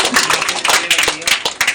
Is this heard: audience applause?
yes